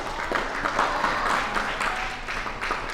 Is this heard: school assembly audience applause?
yes